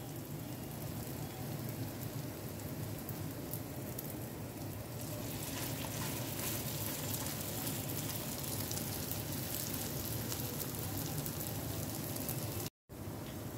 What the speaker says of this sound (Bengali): মিডিয়াম টু লো ফ্লেমে এগুলোকে আমাদের ভেজে নিতে হবে